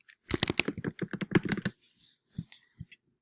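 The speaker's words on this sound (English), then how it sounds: "send it to me by typing in my email here" Fingers typing on a computer keyboard, a close burst of rapid clicking keystrokes followed by a pause and a few scattered single taps.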